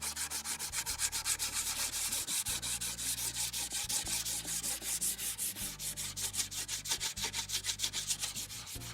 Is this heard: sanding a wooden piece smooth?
yes